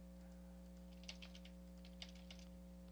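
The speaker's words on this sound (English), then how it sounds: "Let me just type in some gobbledygook here." Quiet, close typing on a computer keyboard, a short burst of light key taps over a steady electrical hum.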